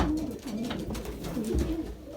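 Belgian racing pigeons on a loft on race day, giving a steady run of soft, low cooing calls close by, continuous and layered over a faint background murmur, with no talking.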